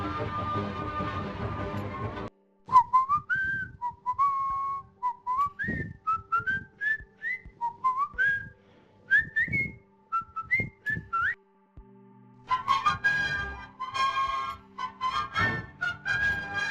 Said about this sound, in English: Facebook have also used their AI to turn a whistling person into a musical masterpiece